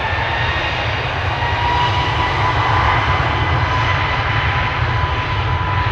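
Continuous loud aircraft engine drone at Amsterdam Schiphol Airport, a deep rumbling hum, steady and unchanging, heard up close without any talking.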